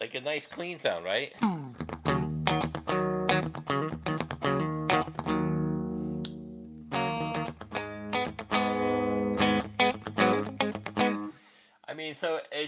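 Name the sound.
clean electric guitar tone through effects unit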